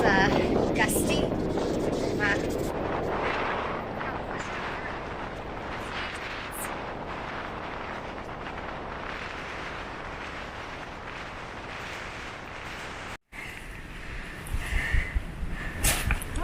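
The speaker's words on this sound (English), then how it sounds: "Just a little windy today." Gusty wind buffets the microphone on a mountain section of the Appalachian Trail near Grayson Highlands, a steady roar with louder rushes near the start and end and a brief dropout partway through.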